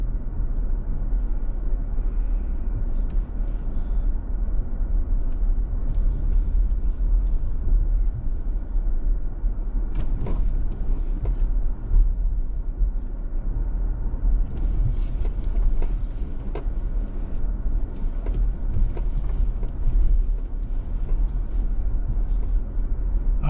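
Toyota Highlander driving off-road along a rocky trail toward a trailhead in Grand Teton, a steady low engine and tyre rumble with occasional knocks and crunches, no talking.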